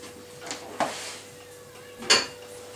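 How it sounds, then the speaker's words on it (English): Ingredients for a zucchini slice stirred in a bowl, heard as a few sharp utensil clinks and scrapes against the dish, spaced irregularly over quiet background. "A good idea with this dish is to stir the ingredients as you go."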